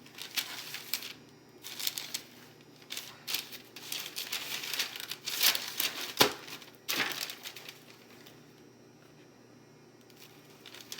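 Dough is moved over floured parchment paper in a kitchen, giving close, soft crinkling and rustling with a few sharper paper crackles, fading toward the end.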